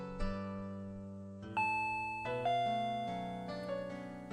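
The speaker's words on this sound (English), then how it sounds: "the doorbell rang" A doorbell in the Higurashi When They Cry video game chimes in a sequence of bright, sustained tones. Each tone rings on over steady background music, with no voices.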